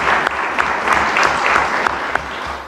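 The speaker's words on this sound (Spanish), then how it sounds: "Así que un aplauso a la compañera." Audience applause for a union organizer at a union school opening, a short burst of lively, fairly close clapping from a modest crowd, loud and steady throughout.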